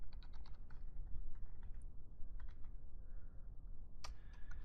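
PL/SQL code being typed on a computer keyboard makes quick runs of soft key clicks with brief pauses, heard close and fairly faint.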